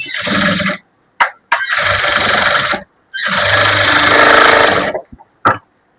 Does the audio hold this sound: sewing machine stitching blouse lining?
yes